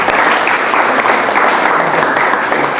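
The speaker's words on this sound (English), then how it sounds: "I think deserves a round of applause for that" Loud, dense applause from an audience at a devotional Ratha Yatra gathering, a continuous close clapping wash without a break.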